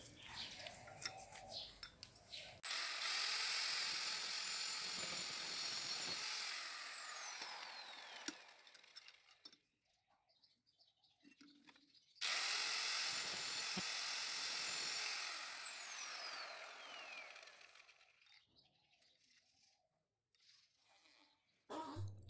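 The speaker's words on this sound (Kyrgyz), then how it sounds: "Эки башындагы жыгачты кыркып алгандан соң ортосунан тешип алабыз." Power drill boring a hole through the middle of a wooden piece for a homemade flexible phone holder, two loud sustained whining bursts of several seconds each with quiet pauses between, no talk.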